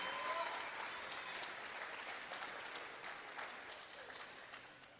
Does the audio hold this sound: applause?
yes